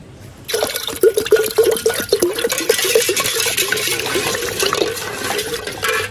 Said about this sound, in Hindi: अभी डाल रही हूँ पानी ठंडा।